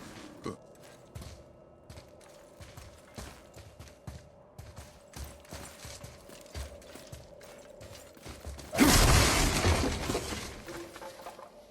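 Ice smashed in God of War (2018): a loud crashing shatter bursts out near the end, following a long stretch of quiet clicking and clattering game sounds.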